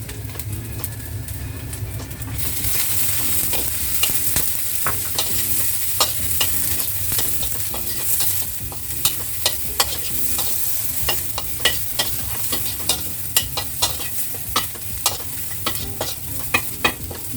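Garlic and dried shrimp stir-frying in a pan for a cabbage dish, a loud steady sizzle broken by rapid, regular scrapes and clacks of a spatula, close up and without talk.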